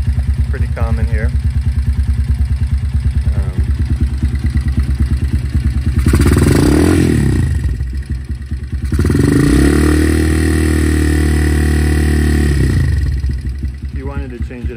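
A Honda Tiger motorcycle with a loud aftermarket exhaust pipe idles with a deep, steady throb close up, swelling twice as the throttle is blipped, while someone talks over it.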